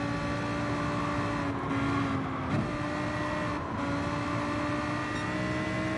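A race car laps a track in Gran Turismo Sport with a steady, droning engine note, holding a constant moderate level with slight pitch shifts throughout.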